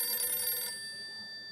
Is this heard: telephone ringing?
yes